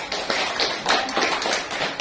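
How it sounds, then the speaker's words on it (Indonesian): A class of students claps for a classmate, giving a dense, continuous round of applause that stays even in loudness throughout, with no voices over it. "beri tepuk tangan untuk teman kita"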